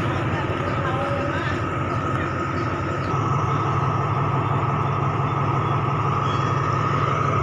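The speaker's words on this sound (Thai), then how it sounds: "ได้ยินเสียงรถไฟเลยลุกมาถ่ายนะครับ" A low, continuous rumble of Thai express train 112 rolling into Chum Saeng station close by, a steady heavy drone with mechanical noise layered over it throughout.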